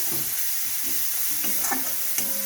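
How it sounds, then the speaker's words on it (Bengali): Garlic paste sizzles with onions in a hot pan, a steady close frying hiss broken by a few soft stirring scrapes. "রসুনটাকেও পেঁয়াজের সঙ্গে কিছুক্ষণ ভেজে নেব কাঁচা গন্ধটা যাতে না থাকে"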